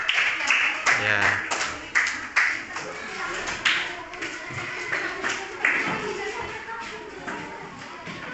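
Classroom applause for a student group that just presented, scattered clapping bursts mixed with taps, shuffling and thumps, close and uneven, with a brief spoken word.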